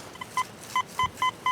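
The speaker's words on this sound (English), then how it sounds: "It's the first signal I've had in a while here that's coin-ish, coin-like." A metal detector beeps at a small, coin-like target, giving a quick series of five short, clear, evenly spaced tones with faint background noise in between.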